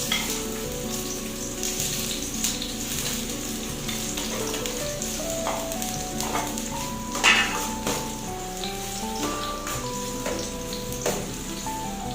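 Garlic and onion sautéing in a pan for a bottle gourd dish with dried shrimp, a soft, even sizzle with occasional stirring taps and clinks that runs steadily throughout.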